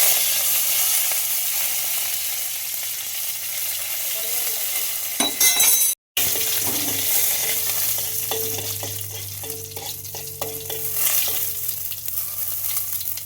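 Homegrown curry leaves sizzling in hot oil in a pan, a steady close frying hiss with a brief cutout midway, followed by stirring and light clinks, no talk.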